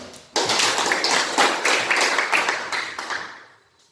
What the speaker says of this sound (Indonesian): Tepuk tangan untuk buat kelompok 2